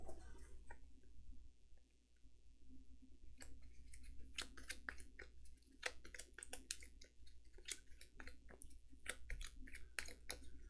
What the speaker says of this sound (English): End of the round, so we got to shuffle this.